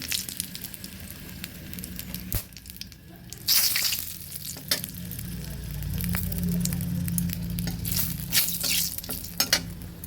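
Dried red chillies and a bay leaf sizzle and spit in hot oil in a pan, with occasional clinks and stirring scrapes, a close, steady crackle building over time.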